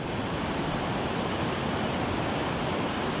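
Surf waves breaking on a beach while perch fishing, a steady, loud broadband roar of rushing water with some wind, continuous throughout and with no voices.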